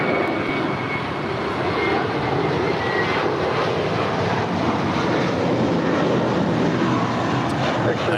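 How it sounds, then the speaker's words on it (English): An Atlas Air Boeing 747-400 freighter lands at LAX, a loud, steady broadband jet engine roar with a whining tone, sustained and close throughout with no talk. "That is a 747-400 freighter."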